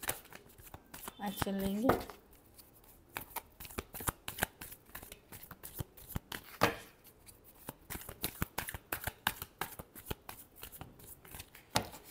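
Tarot cards being shuffled by hand, a loud riffle near the start followed by a long run of quick, crisp card flicks and taps at close range, with a person speaking briefly over them.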